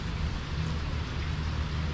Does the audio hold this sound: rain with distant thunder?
yes